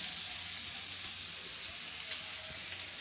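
A shrimp, cauliflower, potato and eggplant curry sautés in a pan with a steady, soft, hissing sizzle that holds evenly throughout, and no talk over it.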